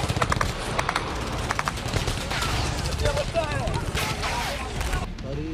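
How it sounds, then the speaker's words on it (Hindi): Gunfire in Khan Younis, rapid bursts of shots cracking amid shouting voices and crowd noise, fairly distant and mixed with loud background commotion. "कुछ दूर जाते ही लोगों पर इजरायली सेना ने फायरिंग शुरू कर दी"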